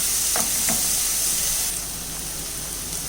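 Rava and jaggery mixture being stirred in a pan for a steamed snack, a steady sizzling hiss with a few soft scraping strokes early on, moderately close and alone without any talk.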